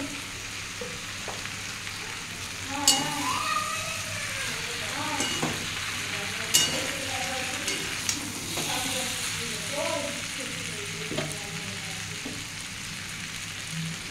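Katoya data stalks frying in a pan with a soft continuous sizzle and occasional scraping stirs, while someone speaks over the cooking at moderate distance.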